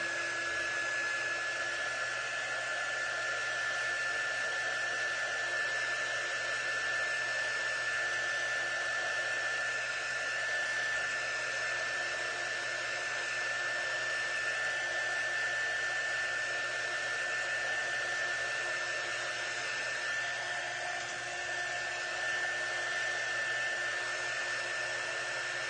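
A hair dryer blows steadily on a craft project, a loud, continuous whoosh with a constant motor whine that holds for the whole stretch, alone, with no voices.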